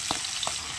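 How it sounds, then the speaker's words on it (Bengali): Pieces of fish lightly frying in oil in a pan: a steady soft sizzle with a few brief scraping stirs, close and moderately quiet, with no talking. "মাছগুলো হালকা করে ভেজে নিয়েছি, তুলে নেব"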